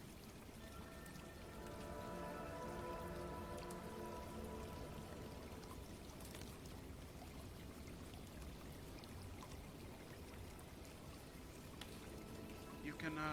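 Steady pouring or trickling water, a continuous close wash of sound that swells slightly early on and runs evenly throughout, with no voices.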